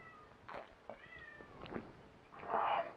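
A neutered male cat meows several times at close range, drawn-out wavering calls rising and falling over a low background hiss, with no talking.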